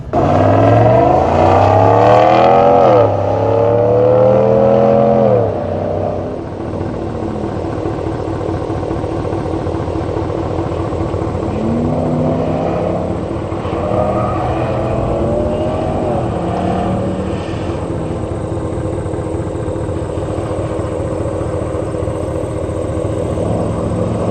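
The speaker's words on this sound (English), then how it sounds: "open her up and see exactly what this thing sounds like if you're going to be giving it more throttle" A 2026 RAM Big Horn pickup with a HEMI engine revs and accelerates loudly at first, its pitch rising and falling, then settles into a quieter steady engine drone with a few later surges.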